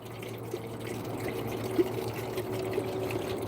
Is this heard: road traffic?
no